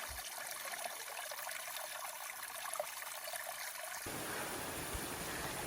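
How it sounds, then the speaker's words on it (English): A mountain stream running over and along a rocky hiking trail on the Appalachian Trail, a steady close rush and trickle of water that thickens and brightens partway through. "Oh, look at this nice stream."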